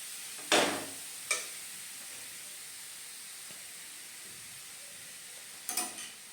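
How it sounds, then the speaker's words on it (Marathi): Grated carrot sautéing in ghee gives a faint, steady sizzling hiss, broken by a few brief scraping stirs near the start and end. "आपल्याला तुपामध्ये गाजराचा किस हा परतून घ्यायचा"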